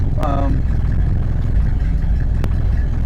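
A steady low car engine idle at about 700 rpm rumbles throughout, close and constant, with a couple of brief clicks and faint voices over it.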